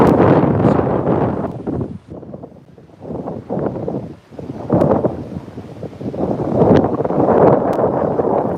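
Strong coastal wind buffeting the microphone on a headland in loud, uneven gusts, with brief lulls between the blasts.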